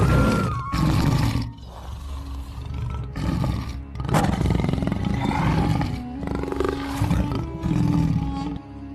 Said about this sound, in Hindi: अरे बाप रे, ये तो शेर की आवाज है।